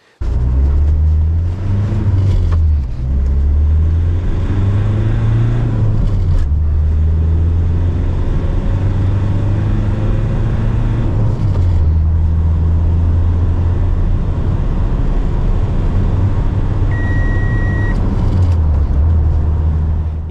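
Renault Master 3 van driving with its engine running, a steady loud low rumble that holds throughout with slight rises and dips, heard from close by.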